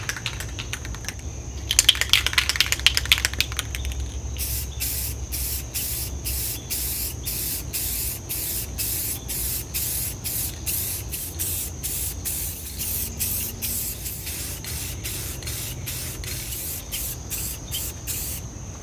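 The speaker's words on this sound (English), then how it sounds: "we will lay on a nice generous coat of the clear that will hopefully give it a glazed look" Aerosol clear coat sprayed onto a steampunk industrial floor lamp, a long hissing burst followed by a steady run of short rhythmic spray pulses, close and fairly loud with no talking.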